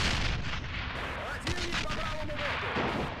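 Mortar and artillery fire boom in a World War II strategy game, heavy dense blasts rumbling close with a whistling shell sound over the top and no speech.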